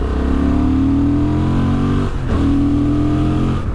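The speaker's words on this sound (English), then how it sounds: "It is a really, really fun engine, especially when you get it revving and singing, and it does have a nice exhaust and induction note too." A Honda XL750 Transalp adventure motorcycle's parallel-twin engine revs hard and holds a loud, steady, singing note with a brief dip in the middle before climbing again, exhaust and induction tones close and alone with no talk.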